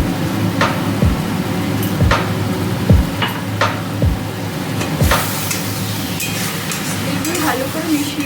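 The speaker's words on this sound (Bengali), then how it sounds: "ভালো করে মিশিয়ে মশলাটা যতক্ষণ না কষা হচ্ছে এটাকে কষিয়ে যাও।" Spice paste for chicken stirred and fried in a pan, with steady sizzling and a spoon scraping the pan in regular strokes about once a second, close and loud.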